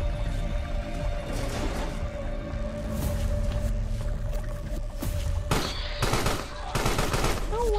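Gunfire from an enemy soldier striking the creature in the horror game Carrion, rapid bursts of shots over a droning game soundtrack, with a tonal creature cry near the end.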